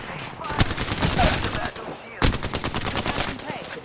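Automatic gunfire in Apex Legends rattles out in two close, loud bursts of quick shots separated by a brief gap, with a faint voice underneath.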